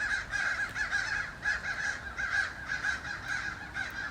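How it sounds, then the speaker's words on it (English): A flock of crows caws overhead outdoors, harsh repeated calls overlapping in a steady, fairly loud stream with no pause, no one talking. "I have a swarm of birds flying above me."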